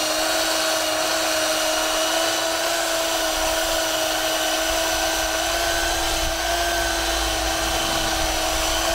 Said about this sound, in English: So we've got Tracy on the belt sander